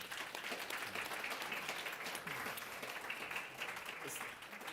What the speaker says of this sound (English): Please join me in applauding our panelists.